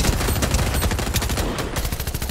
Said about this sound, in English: I think I'm getting shot at from behind.